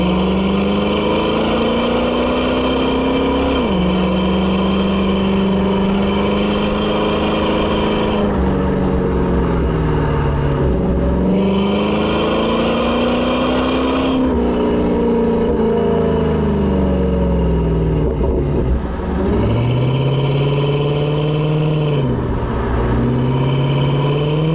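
A C4 Chevrolet Corvette with automatic gearbox pulls hard at full throttle from inside the cabin, engine note climbing steadily through several rising sweeps, each broken by a gearshift drop, loud and continuous with no talking.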